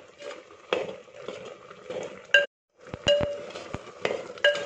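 A spoon clinks and scrapes against a pot while stirring kurukku kalan, a thick Onam sadhya curry, in irregular near strokes with short pauses and one sharp metallic tap.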